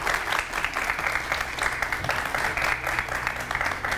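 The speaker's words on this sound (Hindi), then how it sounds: "इनके लिए बहुत सारी तालियां।" Studio audience applause on an Eid special television show, a steady dense wash of clapping that holds loud and even for several seconds with no talk over it.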